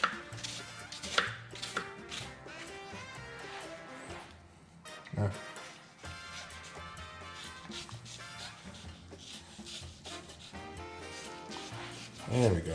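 Knife chopping through a cantaloupe on a board, irregular close cuts and thumps mixed with a person talking.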